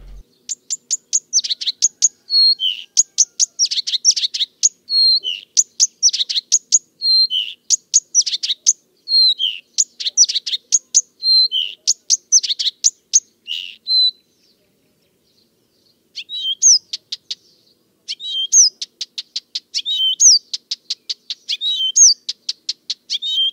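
A garden warbler sings long, rapid warbling phrases in repeated bursts at night, clear and fairly close, with a short pause midway before the song resumes.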